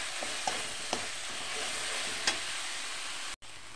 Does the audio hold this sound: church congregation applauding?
no